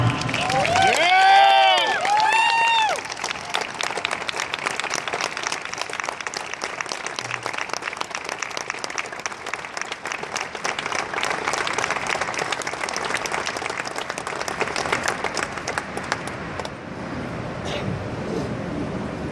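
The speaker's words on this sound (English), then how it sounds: "please join me in a round, warm welcome of applause for Eric Morante" An audience welcoming Sgt. Eric Morante at a Hall of Fame induction with loud cheers and whoops at first, then settling into steady sustained applause that thins toward the end.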